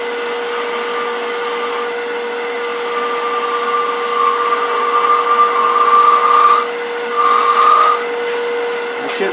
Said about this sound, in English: Switching to a 3/8 inch spindle gouge.